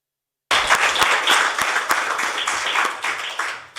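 Applause from a conference audience starts suddenly after a moment of silence. It is dense, close clapping that holds steady, then begins to thin and fade near the end.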